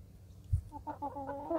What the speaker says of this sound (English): We have one rooster and seven hens.